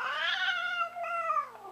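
A cat being held cries out for attention with one long, drawn-out, wavering meow, close and clear with no other sounds.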